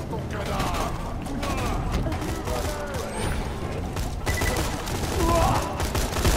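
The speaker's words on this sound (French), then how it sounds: "Mais d'où ils viennent tous ces tirs là?" Enemy gunfire in the shooter game Borderlands 2, a dense continuous fusillade of rapid shots and crackling impacts, loud and unbroken throughout, with a few faint mechanical sounds.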